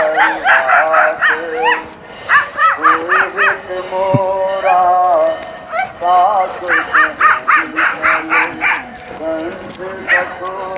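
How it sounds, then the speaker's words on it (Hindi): Dogs bark and yip in rapid bursts, a desi dog scuffling with a larger Doberman or pitbull, with brief whimpers between volleys; someone talks over the commotion. "चिंटू गए फिर उधर वो काले कुत्ते को पकड़ने पहुंच गया।"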